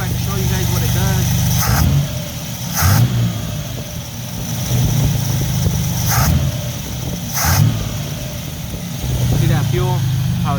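A 1983 Buick Regal engine fitted with a freshly rebuilt Edelbrock carburetor and PowerBlast plate, idling then blipping in four or five quick sharp revs, close and loud, with a person talking between the bursts.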